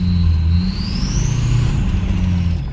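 A 6.0 engine truck idles steadily with a deep low rumble, while a loud high-pitched whistle rises gradually in pitch and holds throughout, close up and continuous.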